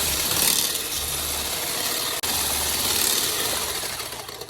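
A mixer steadily whirs through doughnut batter with vanilla extract, a continuous loud buzzing churn that holds almost without a break for several seconds.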